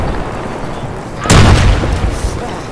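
Mortar round exploding in the ArmA 3 military game, a single heavy boom with a rumbling tail partway through, moderately close, over a constant background of gameplay ambience.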